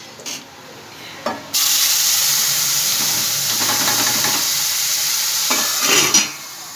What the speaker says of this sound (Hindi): अब इसके बाद डाल दूंगी मैं टमाटर का पेस्ट